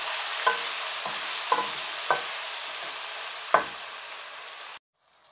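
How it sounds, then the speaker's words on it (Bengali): Meat fries in a pan with garlic and chili flakes, giving a steady close sizzle punctuated by a handful of sharp utensil taps and scrapes before cutting off abruptly. "এখন দিয়ে দিব মাংসটা আর একটু ভেজে দিব।"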